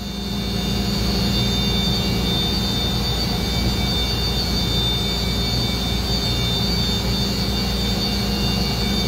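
A Mazak VCN 530C CNC vertical machining center spindle running at about 12,000 RPM gives a steady, loud, high whine with a broad whooshing hiss, unbroken and alone for the whole stretch.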